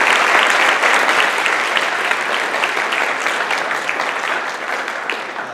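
Steady audience applause fills a hospital gathering, loud from the start and easing slightly toward the end, with no talking heard.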